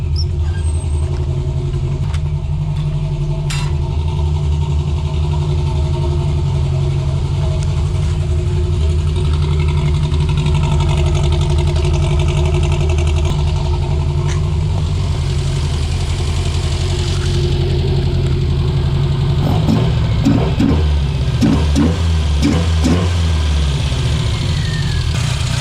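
A car engine fitted with 100mm velocity stacks idles with a deep, steady rumble, then revs in several quick blips near the end, close and loud.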